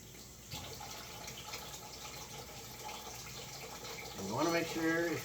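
Water trickles and splashes as it drains from a whole chicken being prepared for cooking, a faint, steady running sound with a voice briefly audible near the end.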